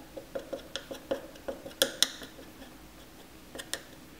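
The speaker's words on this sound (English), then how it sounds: "I'm gonna kind of push everything into the center and just kind of tap it down" A makeup press taps down repressed Benefit blush powder in its pan, giving a quick run of light, evenly spaced clicking taps, two sharper knocks, a pause, then a couple more taps.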